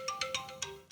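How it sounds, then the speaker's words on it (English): A phone alarm ringtone plays, a short melodic tone sequence with repeated bright chirps over a steady pitch, alone and clear at moderate volume. "Oh, that's my alarm."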